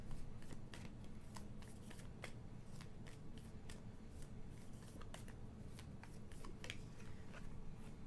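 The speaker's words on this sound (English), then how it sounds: "These cards are so hard to shuffle." Tarot cards being shuffled by hand, a steady run of papery riffles and soft snaps in close, constant rustle with no talk.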